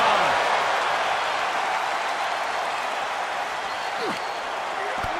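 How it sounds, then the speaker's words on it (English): A large arena crowd in the wrestling game WWE 2K24 claps and cheers in a sustained wash of applause that holds steady, then eases slightly toward the end. "this crowd is on their feet in full appreciation"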